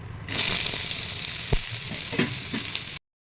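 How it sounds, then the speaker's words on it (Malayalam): Sliced onions frying in ghee for an egg biryani, a loud continuous close sizzle with a few soft stirring knocks, ending abruptly, no talking. "അപ്പോൾ നമ്മളുടെ സവാള നന്നായിട്ട് ഫ്രൈ ആയിക്കൊണ്ടേ ഇരിക്കുകയാണ്"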